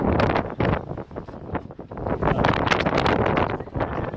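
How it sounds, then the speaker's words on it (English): Strong wind gusts hard across the microphone at an exposed spot during a UK vanlife meet, a loud rumbling buffeting that rises and falls without pause. "It's a bit bloody windy up here."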